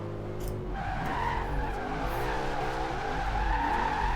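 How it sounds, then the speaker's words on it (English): Tires skid and squeal continuously as a car drifts in the Forza racing video game, a loud, wavering screech over a steady engine drone, with no voices. "You barely turn the wheel. And the car slides."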